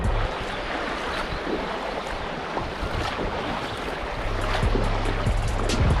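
Flooded River Murray water flowing outdoors, a steady broad rushing wash with wind buffeting the microphone, swelling slightly louder toward the end, with no talk.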